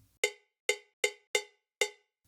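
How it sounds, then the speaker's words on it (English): Cowbell click track in Logic sounding five evenly spaced bright metallic clanks with quick decay, moderately quiet and alone, like a metronome count. "This is just your typical cowbell sound."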